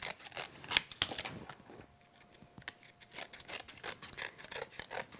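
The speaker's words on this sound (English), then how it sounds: "And some scissors. So trim away the extra bit." Scissors snip and trim the excess edge of a die-cut paper card, giving a close run of crisp, rapid cuts with a short pause midway before the snipping resumes.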